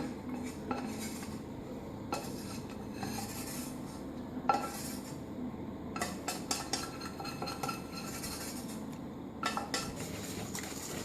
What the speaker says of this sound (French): on mélange bien notre mélange